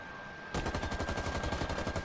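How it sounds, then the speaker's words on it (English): Rapid automatic gunfire in a first-person shooter video game erupts after a brief quiet moment and continues as a loud, steady burst of closely spaced shots. "I headshot him through the fucking wall."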